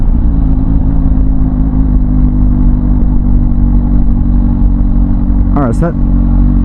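A CFMOTO 750SR-S motorcycle engine idles loudly and steadily after coasting in third gear up to a traffic light, a constant low throb with a short spoken word near the end.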